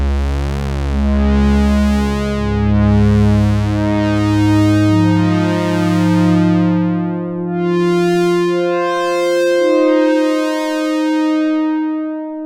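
A Prophet Rev2 synthesizer plays a Blade Runner-style pad patch with a filter envelope, overlapping sustained chords sweeping bright then mellowing as each note swells and decays, smooth and rich with no voice over it.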